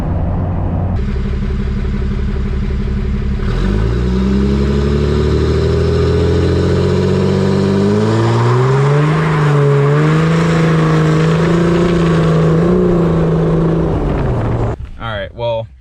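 A 6.7 Cummins diesel truck with an EFI Live tune pulls hard from a stop. The loud, close engine roar climbs steadily in pitch for over ten seconds, then drops away abruptly at the end.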